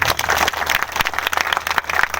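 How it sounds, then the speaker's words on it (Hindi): A live audience gives a short round of dense, steady clapping, close and fairly loud, at a spoken gathering. "चलो इनके लिए ताली बजा दी सबके लिए।"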